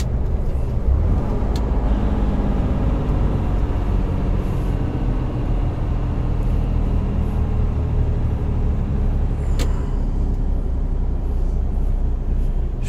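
A truck's engine runs steadily on the road at night, a loud, continuous low drone close behind, with a faint squeak and a short hiss breaking through briefly; no one speaks.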